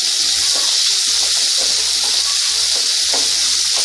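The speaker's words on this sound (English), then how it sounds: "Now add the cut onion. Keep the flame on low to medium." Chopped onion frying in a pan over a low to medium flame, giving a loud, steady sizzle with faint stirring scrapes throughout and no speech.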